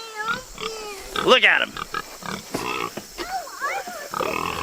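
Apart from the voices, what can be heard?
pigs grunting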